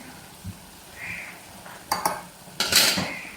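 Mushrooms stirred with salt in a pot give a few scattered clinks and scrapes of a spoon against metal, the strongest near the end, over a faint low background.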